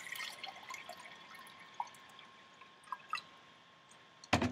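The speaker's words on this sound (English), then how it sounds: "I'm going to fill him up with water." Water poured into a small homemade snow globe jar, with soft drips and small splashes scattered over a quiet background, ending in a sharp louder clunk.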